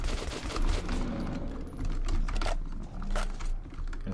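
Gunfire in the first-person shooter Metro 2033 Redux, a string of quick sharp shots in uneven bursts with short gaps between them over a dull background rumble.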